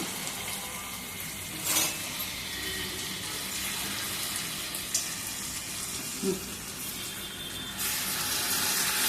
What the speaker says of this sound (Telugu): ఇప్పుడు నేను కొంచెం వాటర్ యాడ్ చేస్తాను